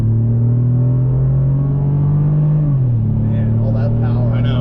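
Chevrolet Colorado pickup with a V6 engine accelerating from inside the cab, a loud steady engine drone that rises in pitch, then drops after a gear change and climbs again.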